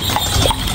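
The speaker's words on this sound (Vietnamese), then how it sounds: "hai con ngựa bự chà bá luôn" Hooves of two large horses clip-clop on pavement at a university Christmas market, a short close burst of steady hoof strikes.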